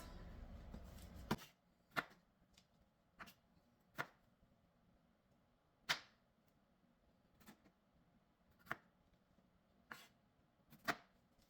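A knife cuts through tomatoes on a board, single sharp chops spaced a second or two apart, close and fairly quiet against a low hum, with no talking.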